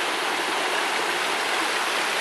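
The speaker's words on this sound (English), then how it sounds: "This definitely is the waterfall" Water pouring over a beaver dam built of logs and cut wood forms a steady, dense, close rushing roar with no pauses and no voices.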